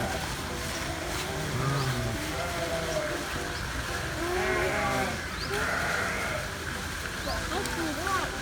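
Brown sheep bleat at a farm park with peacocks and deer in Sam Phran, Nakhon Pathom, several wavering calls rising over outdoor background noise with people chatting nearby.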